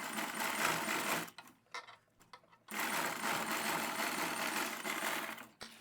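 A sewing machine stitches along a pointed V-shaped neckline in dense continuous bursts, pausing briefly while the fabric is turned at the corner, then running steadily again; close and loud.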